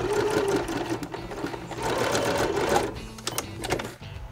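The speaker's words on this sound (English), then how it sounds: "That same top stitch that I did to the shoulder seam, I'm going to do also to the armhole seam." Sewing machine running steadily as it top-stitches the armhole seam of a shirt, a close, continuous motor whirr and needle chatter with brief pauses and restarts toward the end.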